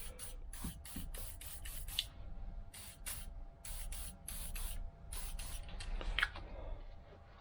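WD-40 is sprayed onto the seized pedals of a 1979 MG Midget 1500, in short repeated hissing bursts, some quick and some longer, close to the microphone with small rattles between them.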